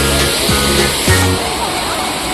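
A waterfall at Mauli fort near Shahapur pours in a steady, loud, broad rush close by, with brief voices of the crowd rising over the roar.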